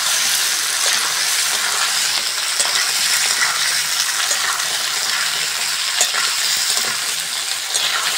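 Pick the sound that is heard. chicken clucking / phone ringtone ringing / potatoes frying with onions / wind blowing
potatoes frying with onions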